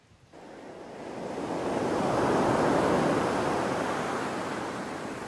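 Atlantic surf rolls in where the Etel river meets the ocean beside long sandy beaches and strong currents, a broad hissing wave wash swelling loud over a few seconds then easing, with some wind across the microphone.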